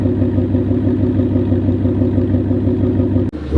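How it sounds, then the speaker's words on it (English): A Ford Mustang V8 idles steadily up close, a deep, even rumble with a slight lope that holds constant before a brief dip near the end. "It sounds really good on the idle, and the cold starts are just dumb loud."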